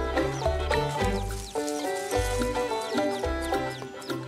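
Mother hen leading her chicks while foraging outdoors, with repeated soft clucks and higher peeping calls in an irregular rhythm, close and moderately loud, with no voices.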